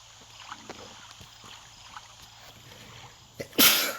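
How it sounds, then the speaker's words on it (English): A single loud, sharp sneeze bursts out near the end after a quiet stretch with a few soft sounds. "I shouldn't be sneezing on the phone, should I?"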